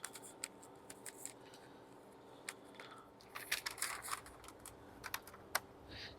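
Paper being torn by hand for a frame craft, a series of quiet, crisp rips and crinkles, some isolated and some clustered, close and faint with no talking.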